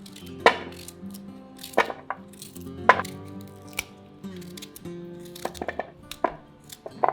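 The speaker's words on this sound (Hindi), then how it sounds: "अब हम इनको छोटे छोटे पीस में काटेंगे" A knife chops peeled raw mangoes into small pieces, giving sharp, irregular clacks on a board over several seconds, close up, with no talking and light background music.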